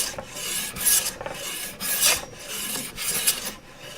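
A Stanley No. 6 hand plane shaves along a wooden board in repeated strokes, each a bright rasping swish roughly once per second, close and fairly loud with short pauses between passes.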